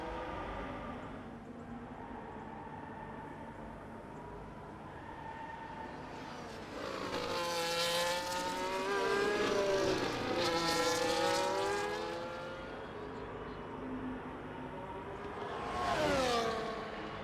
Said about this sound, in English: to go on board with the leader though, Doug, as he comes around the last few corners here